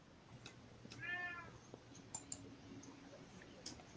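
A cat gives a single short, faint meow in a quiet room, with a few soft clicks and ticks scattered around it.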